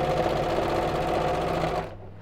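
Sewing machine running a straight stitch on towelling fabric for a turban, a rapid even mechanical whirr heard up close that cuts off near the end, leaving a faint low hum.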